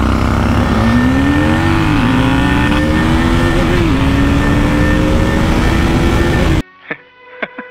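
A KTM RC 390 GP Edition single-cylinder motorcycle engine revs hard and loud, its pitch climbing steadily with a couple of brief dips, then cuts off abruptly into a few short sharp pops and bursts.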